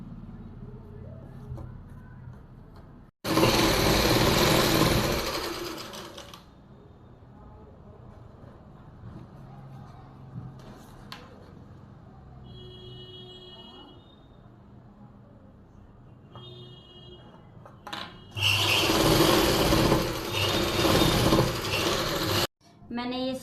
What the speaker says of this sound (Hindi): और इस तरह से ही मैं इस साइड को भी सिलाई लगा लेती हूँ।